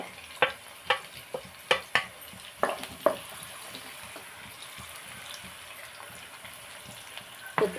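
Onions and green chillies frying for prawn and egg curry give a low, steady sizzle under a series of sharp clinks and scrapes from stirring in the pan, then a quieter stretch.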